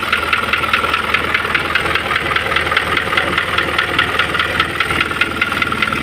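An Isuzu 4HL1 diesel engine with an overheating fault runs at a steady idle, a loud, close, regular knocking hammering through the rumble for the whole stretch, with no talk.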